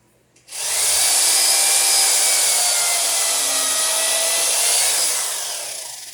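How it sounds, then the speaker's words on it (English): A power drill whines steadily at high speed for several seconds, loud and close, starting abruptly and tapering slightly near the end, drilling near nails and rivets while building a wooden boat. "I don't want to break another drill bit"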